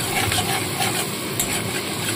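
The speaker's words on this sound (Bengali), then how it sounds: "রসুনটাকে সামান্য একটু ভেজে নেব।" Chopped garlic fries in melted butter in a pan, giving off a steady, fairly loud broadband sizzle with no talking.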